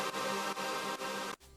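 Second section of a Splice sample beat, with a dense sustained synth-and-drum loop that pulses at steady intervals and then cuts abruptly into a sparser drum switch-up near the end.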